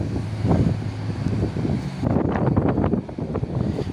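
Strong gusts buffet the microphone in a continuous roaring rumble on a beach at Bodden Town, Cayman Islands, with the wash of surf blending underneath.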